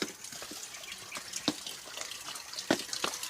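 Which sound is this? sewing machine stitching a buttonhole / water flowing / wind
water flowing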